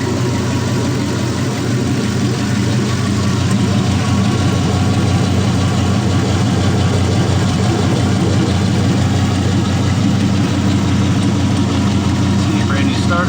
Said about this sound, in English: It's quiet when you can have a conversation right next to a running V8.